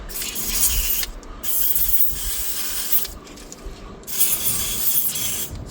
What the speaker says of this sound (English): Right, WD-40 is a good trick here.